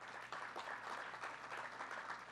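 An audience at a Penn Station renovation event claps steadily in a dense, even burst of applause, heard faintly from a distance with no talk over it.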